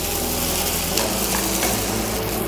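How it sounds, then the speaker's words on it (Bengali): Potatoes being stirred while they fry in a pan for fish fingers: close, dense sizzling with a spoon scraping and rattling against the pan, steady and loud throughout with no voices. "ভালোভাবে নাড়াচাড়া করতে থাকবো আলুটা"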